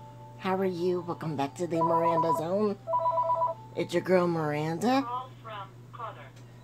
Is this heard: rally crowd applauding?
no